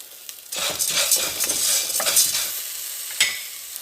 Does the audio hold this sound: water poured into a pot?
no